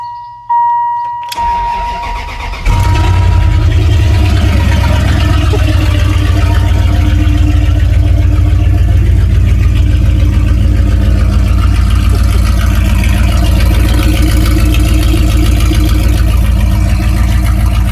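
An old truck with no exhaust fitted is cranked after a brief electronic chime, then fires up into a very loud, steady, close engine roar that holds for the rest of the clip.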